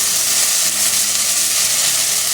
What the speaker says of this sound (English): Let's stir this up, get this ginger in there and going.